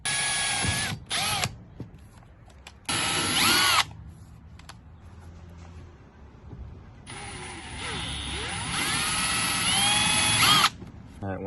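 A power drill bores holes for a radio dash mount in a 2004–06 Toyota Tundra cab, with several loud high-pitched bursts of whining drilling separated by quieter pauses of handling and clicks.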